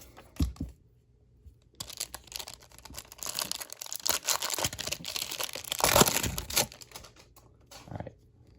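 Foil wrapper of a 1994-95 basketball card pack torn open by hand, a series of close crinkling rips and crackles building to a loud burst, then settling into lighter rustling as the pack is pulled apart.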